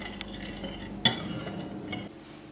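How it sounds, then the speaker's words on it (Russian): A spoon scrapes and clinks around inside a metal pot of tomato marinade heating on the stove, with one sharper knock midway, close and fairly quiet. "Поставила кастрюлю на огонь и при постоянном помешивании доведу до кипения."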